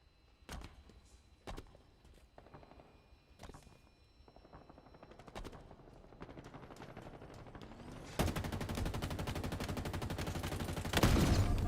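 Assault rifle fire in a first-person shooter, a string of sharp separate shots that builds into dense sustained automatic bursts toward the end, loud and close with no talk.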